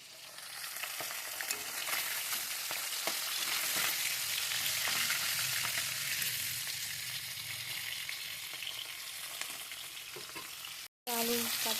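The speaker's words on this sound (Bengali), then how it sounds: "আলু কাটে দিয়ে ভাজতে দিয়েছি মাছের জন্য।" Potatoes frying in oil for a fish dish: a steady, dense sizzle with occasional sharp crackles and pops, continuous and close, before a brief cut and a faint clatter at the end.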